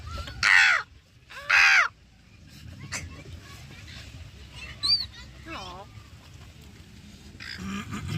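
A person imitates a seagull call, giving two loud, harsh squawking cries in quick succession, followed by quieter background chatter and other faint voices close by.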